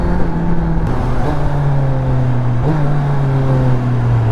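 A Kawasaki motorcycle engine while riding, a loud steady drone with the pitch rising and dropping through gear changes, heard close up.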